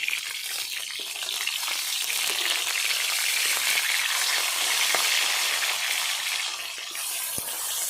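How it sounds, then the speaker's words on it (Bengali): Rupchanda fish frying in hot oil, a constant loud crackling sizzle with small pops scattered through it, close and alone without voices. "তো এভাবে আমি মাছগুলো সব ভেজে নেব।"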